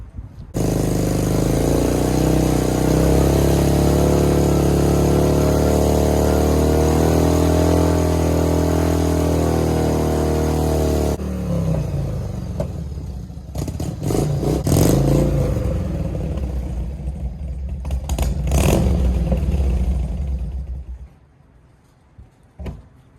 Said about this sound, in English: The more it's running, the better it's just getting.